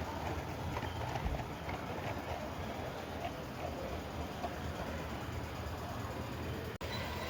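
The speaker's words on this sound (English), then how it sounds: "The 6 is out again, this time pulling the water gin and hopper train." A model railway locomotive hauls a water gin and hopper wagon train at an exhibition, giving a steady, continuous low rumble and rattle of small wheels on track with no talking.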